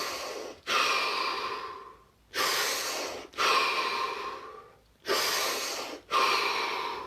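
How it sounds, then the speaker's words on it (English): Slow, deep breaths during a relaxation exercise, several long, airy inhales and exhales close to the microphone, each separated by a brief silent pause. "This time we're going to take 3 deep breaths"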